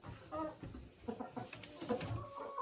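Hens settled in their nests give soft, intermittent clucks and low murmurs nearby, fairly quiet, with a faint human voice mixed in.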